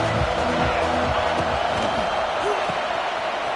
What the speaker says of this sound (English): This crowd still bringing the intensity to open the 2nd half.